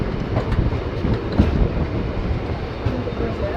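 A Rampurhat–Jasidih MEMU passenger train runs on rails near Dumka in Jharkhand, giving a loud, steady rumble with continuous wheel clatter close by.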